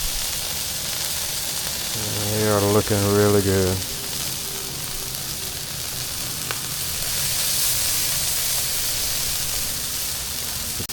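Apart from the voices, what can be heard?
burgers and sausages sizzling on Blackstone griddle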